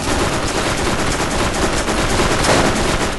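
Dense, unbroken gunfire from the video game Borderlands fills the whole stretch, with rapid automatic shots blurring together into a loud, steady barrage and no talking.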